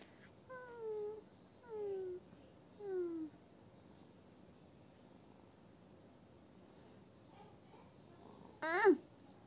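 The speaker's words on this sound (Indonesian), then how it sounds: "Kucingnya pesek, ih parah banget." A cat meows three times in quick succession, each call short and clear, then after a pause gives one louder, longer meow close by.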